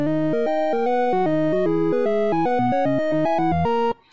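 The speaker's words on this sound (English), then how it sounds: "I think this is a jingle when you beat the entire game." A short chiptune victory jingle for a Pico-8 shoot-'em-up, played when the whole game is beaten: a bright, square-toned melody of quick stepping notes that stops abruptly after about four seconds, with no talking.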